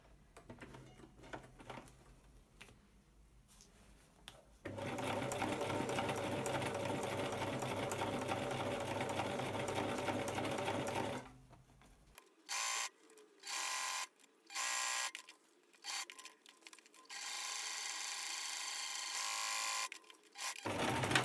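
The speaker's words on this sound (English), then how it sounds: "I'm just going to sew all the way around the edge of that as well." A sewing machine stitches around the edge of lining fabric for cot bumper bars, running steadily in one long burst, then in several short bursts with pauses between, close and alone.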